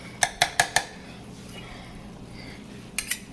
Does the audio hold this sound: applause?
no